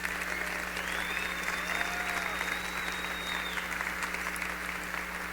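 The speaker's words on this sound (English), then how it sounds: "Give him a round of applause." Audience applause as Dr. Terry Bolt, founder of the Bachelor of Innovation, comes to the stage, a steady wash of crowd clapping with a few whoops over a constant hum.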